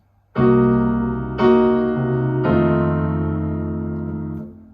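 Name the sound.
half diminished chord followed by dominant 7th chord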